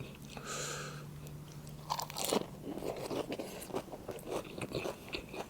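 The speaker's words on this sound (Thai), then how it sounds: "กรอบได้ใจครับผักกรอบ" Crunchy fresh vegetables are bitten and chewed close to the microphone, a series of crisp crunches and wet chewing after an opening bite, loud and near with no talk.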